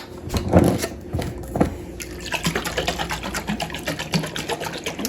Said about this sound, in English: now that I've got my jar filled up to about the neck